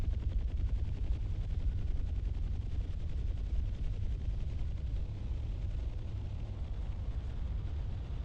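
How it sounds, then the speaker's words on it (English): Miniguns on Huey helicopters firing in DCS, a combat flight simulator, during a night close air support mission: a continuous, dense, rumbling stream of rapid gunfire, steady and loud throughout with no pauses. "if you see 3 Hueys doing a big circle over you with the miniguns firing"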